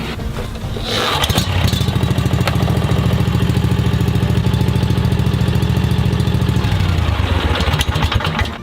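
A Kawasaki FS600V engine on an Exmark Metro mower starts after a second of quiet and runs steadily at a loud, close idle, with a throbbing drone that holds through most of the clip before easing off near the end.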